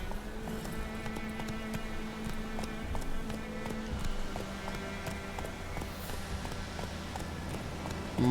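Hooves of Roach, the horse in The Witcher 3 video game, clop in a fast, steady galloping rhythm, close and continuous throughout, with game ambience underneath.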